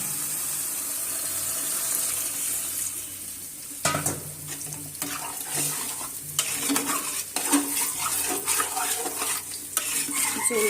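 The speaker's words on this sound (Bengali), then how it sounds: "এই যে এখন আমি জল দিয়ে নিব" Water is poured into a simmering fish curry with pointed gourd in a home kitchen. There is a steady sizzling wash and a burst of splashing and bubbling partway through, and no one speaks.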